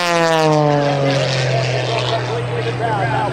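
A propeller aerobatic airplane roars past at an air show in Cleveland, loud and close, its engine pitch sliding downward as it passes, with a voice talking over it.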